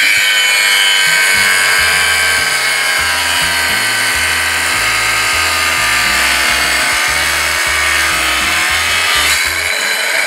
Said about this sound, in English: Let's slice this one again.